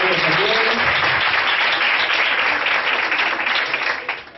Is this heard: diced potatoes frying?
no